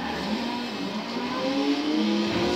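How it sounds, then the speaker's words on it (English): A car engine revs steadily in Forza Horizon 4, a small, buzzy motor note climbing in pitch as it accelerates, loud and continuous throughout with no talking. "Sounds like a tiny little motor."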